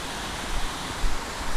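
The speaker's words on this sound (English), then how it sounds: "Directly in front of us is the waterfall." Steady broadband rush of a waterfall along a woodland loop trail in Hahn Woods, constant and moderately loud with slight swells, no voices.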